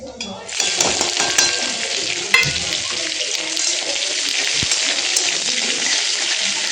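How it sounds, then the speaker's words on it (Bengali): Chopped garlic and an onion hit hot oil in a pan, bursting into a loud, bright sizzle that holds steady, marked by a sharp utensil knock and light clinks. "এখন আমি পেঁয়াজ আর রসুন ভেজে নেবো ভালো করে।"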